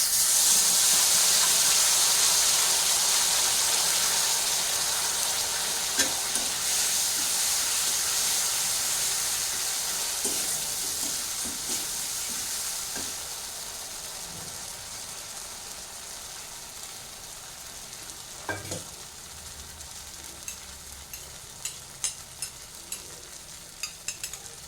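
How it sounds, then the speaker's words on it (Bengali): Spice paste of ginger, cashew and raisin sizzling in a pan for doi katla fish curry, a steady close hiss that slowly fades, with faint scattered stirring clicks near the end. "এই জলেই আমি আমার মশলাটা কষিয়ে নেব।"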